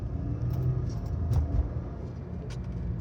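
A Subaru WRX with a CVT transmission accelerates gently in sports mode, heard from inside the car as a low, steady engine hum and road rumble at moderate loudness, with no voices.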